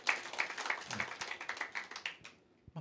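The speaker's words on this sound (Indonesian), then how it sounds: "Kita berikan tepuk tangan yang paling meriah" Congregation clapping at a church worship service, a spread of hand claps with some rhythmic group beats that thin out and fade toward the end, fairly soft and distant.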